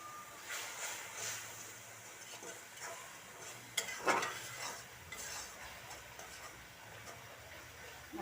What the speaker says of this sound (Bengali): মরিচের গুঁড়া দিয়ে দিলাম, হলুদের গুঁড়া দিয়ে দিলাম। কষাই নিই।